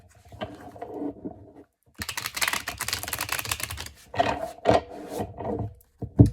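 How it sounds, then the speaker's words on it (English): A deck of cards being riffled and shuffled, a dense papery flutter in several quick bursts with short pauses between, close and fairly loud, no voices. "Okay, one last shuffle."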